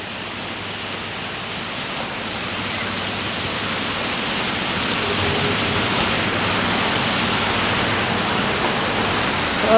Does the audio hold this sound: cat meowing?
no